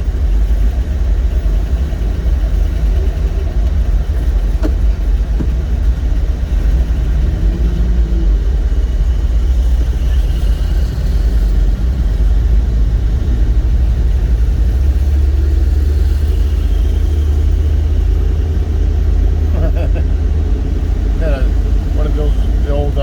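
Steady low rumble from a 1966 classic car with a fuelie hood, cruising at a classic car event among other old cars, its engine a continuous mid-frequency drone under nearby talk.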